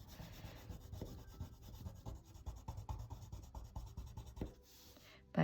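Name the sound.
coloring a drawing with pencil and Sharpie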